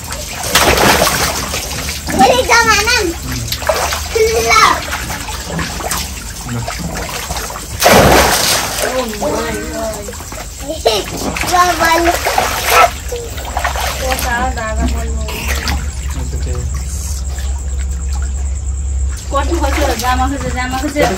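Loud splashes as someone jumps into a home swimming pool, with excited people shouting and talking around the splashes.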